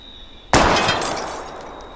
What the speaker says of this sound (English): Give me something to shoot, Max. Let's take out this wheel rim on your left.